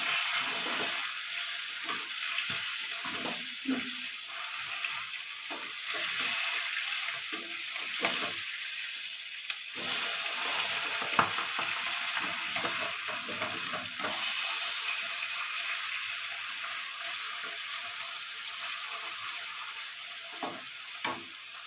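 Pabda fish fries in hot oil in a wok, giving a continuous, even sizzle and hiss that runs close and steady throughout, with occasional small spatters and scrapes.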